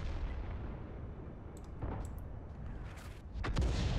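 An artillery shot from the Lorraine 155 self-propelled gun in World of Tanks booms low and muffled. Rumbling game ambience runs throughout, with a sharper crack near the end and no speech.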